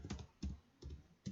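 Four quiet, evenly spaced keystrokes on a computer keyboard while a spreadsheet formula is entered, each a soft close click.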